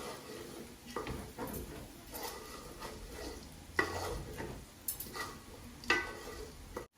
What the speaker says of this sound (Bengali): এখন কয়টা কাঁচামরিচ দিলাম, দিয়ে আবারও একটু নাড়াচাড়া করি।